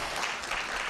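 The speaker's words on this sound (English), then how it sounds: "A better round of applause for Mr." A brief stretch of steady audience applause at a cybersecurity conference, a dense wash of clapping hands at moderate distance with no voices.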